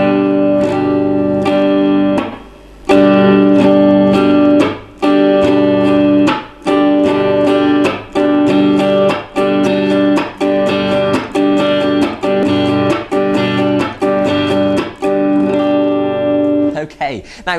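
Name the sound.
guitar strumming pattern with chop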